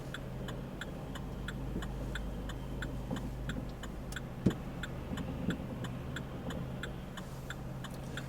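A car turn indicator ticks in a steady, even rhythm of about two clicks per second during a driving lesson, crisp and close over a quiet low engine hum, with one brief thump midway.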